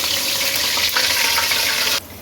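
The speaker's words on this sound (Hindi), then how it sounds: "वो यखनी जिसमें हमने कोफ्ते बॉईल किए थे वो इसमें डाल दें" Kofta-boiling stock (yakhni) poured into a kadhai of hot oil with crackled cumin, a steady loud gushing pour that cuts off abruptly near the end, with no talk over it.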